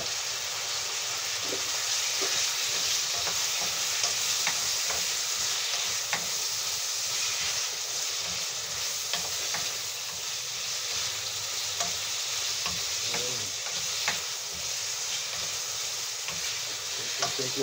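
Chicken liver sizzles steadily in a hot pan, with occasional scraping and stirring clatters over a constant frying hiss, close and even throughout.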